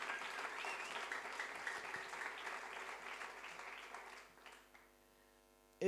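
Church congregation applauding: dense, steady clapping from a crowd, continuous for several seconds, fading out toward the end over a faint electrical hum.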